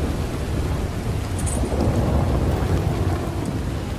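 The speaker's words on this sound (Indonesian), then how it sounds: "Udah hujan-hujan gini." Steady rain pours with deep rolling thunder rumbling underneath, a dense, continuous storm wash in the Red Dead Redemption 2 game world, with no talking.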